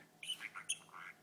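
A pet bird named Kai chatters in a series of quick, faint squawks and chirpy syllables, several short bursts close by in a quiet room.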